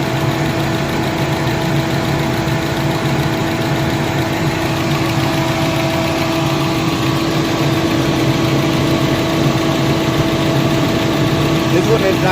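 An overheating Chevy Cruze engine idling steadily up close, coolant temperature very high, a constant low rumble and hum with faint mechanical ticking, unchanging for the whole stretch.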